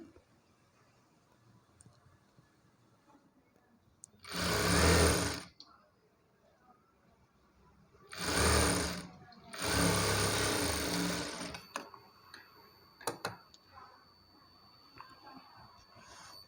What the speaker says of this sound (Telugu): ఇది ఇలా ఫోల్డింగ్ చేసేసుకొని ఇలా కుట్టుకోవాలి